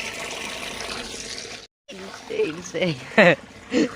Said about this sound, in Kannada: ಹಾಕ್ ನೀರು ಹಾಕ್